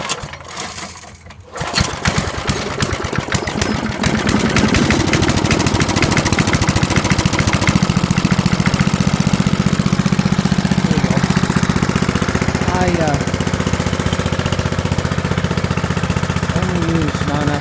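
A small gasoline engine on non-ethanol fuel catches after a brief pause and settles into a steady, loud, buzzing run that continues to the end, close up, with occasional talk faintly underneath.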